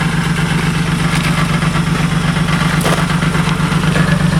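A car engine with a big cam and a collapsed rear muffler idles loudly nearby, its lumpy, loping rumble steady and uninterrupted with no voices.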